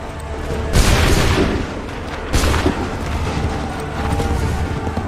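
Musket volleys and cannon fire from Assassin's Creed 3 Remastered on PS5 boom out in two heavy blasts about a second and a half apart, each trailing off into rumbling battlefield noise.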